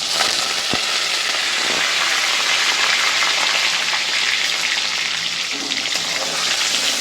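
Urad dal and curry leaves frying in hot oil in a pan for upma, a loud continuous crackling sizzle with a couple of faint taps and no talk.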